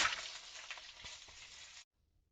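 Onions hit hot oil for a dal tadka with a loud, bright sizzle that crackles steadily, fading a little, then stops abruptly near the end, leaving near silence.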